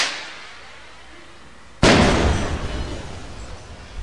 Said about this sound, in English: Suicidal Duck is trying to blow himself up with a firework.